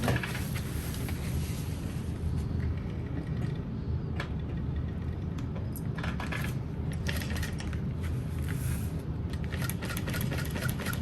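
A sewing machine stitches a zipper pocket through vinyl, a steady mechanical whir running throughout with scattered faint clicks and taps, close by and without talk.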